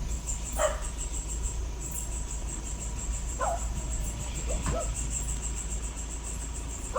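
A few dogs bark sporadically in the distance, faint against a steady background hum and chirping insects.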